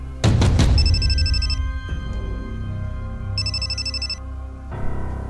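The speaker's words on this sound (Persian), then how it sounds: "تلفن است." A telephone bell rings in two bursts separated by a pause, loud and close, with a hum continuing underneath.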